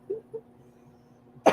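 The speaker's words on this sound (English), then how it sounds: "getting over the last little bit of that nagging cough" A single sharp, nagging cough bursts out near the end, loud and close, after a few soft throaty sounds.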